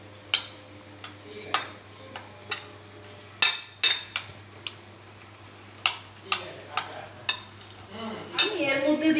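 Utensil clinks and taps against a bowl as chopped onion is mixed into beaten egg and puffed rice for an omelette, a series of sharp, separate knocks at irregular intervals, close by, with a brief scraping swirl at the end.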